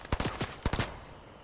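Gunfire in a shooter video game with an AR, pistol and sniper in play: two quick bursts of several sharp, loud shots close together, then a fading tail with no talk.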